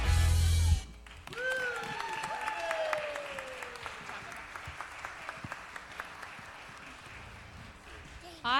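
Audience applause and clapping fill a hall after a group sings a gospel song, opening with a loud burst of applause over music before the applause rises and swells into steady clapping with cheers while a host speaks over it.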